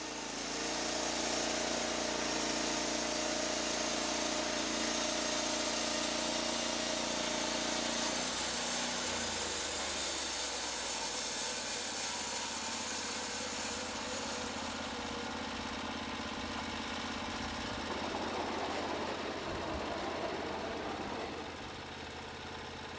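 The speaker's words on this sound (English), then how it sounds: "Just lower the saw head, activate the operator's control, and guide the blade through the cut." Norwood LumberPro HD36 band sawmill cutting through a log, its engine running loud and steady, then easing off toward the end, with no talk.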